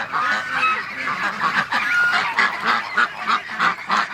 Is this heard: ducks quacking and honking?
yes